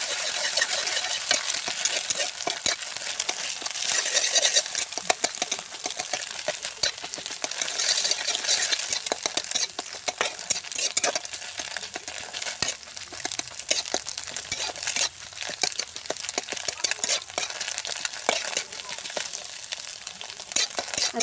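An egg frying and being turned in oil in a wok makes a dense, continuous crackling sizzle, close and even in loudness throughout, with occasional faint utensil taps.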